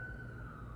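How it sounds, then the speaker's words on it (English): An ambulance siren drones as a steady wailing tone behind a continuous low street rumble, sounding close and even-toned through the short stretch without passing fully away. "Wait for this ambulance to pass."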